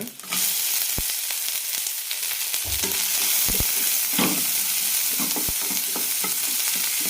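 Ginger and onion sauté in coconut oil with a loud, continuous sizzle, punctuated by frequent close scraping and knocking stir strokes against the pan.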